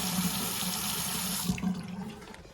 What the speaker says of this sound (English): a Delta style faucet that is leaking from the handle, like this